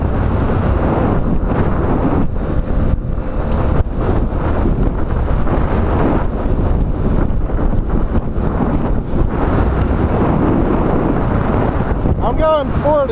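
Strong wind buffets a microphone on a fast drive, a loud, constant roaring rush throughout, with a voice briefly heard near the end.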